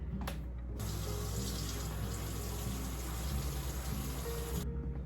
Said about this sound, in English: I get my 2 cups of water to make my broth